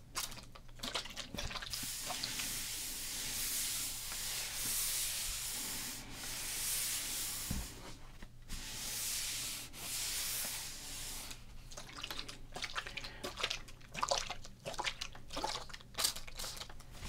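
Steady rubbing and wiping of a 1991 Topps baseball card with water and paper towel, with bursts of spray-like hiss, continuous and close, with scattered scrapes and clicks toward the end.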